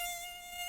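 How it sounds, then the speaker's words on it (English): A flying insect's wings whine in a thin, steady, high-pitched buzz, close and continuous for a brief moment with nothing else heard. "Buzzing sounds!"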